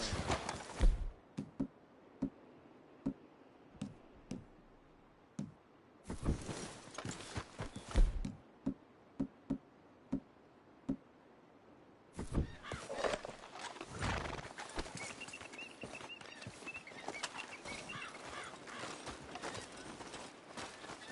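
Horses in Red Dead Redemption 2 whinny and clop their hooves in scattered bursts, with a steadier stretch of movement near the end and no talking.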